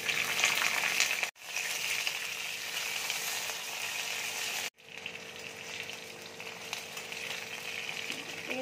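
Flat beans frying in hot mustard oil in a wok with nigella seeds give a steady, loud, close sizzle and crackle, broken by two brief silent cuts.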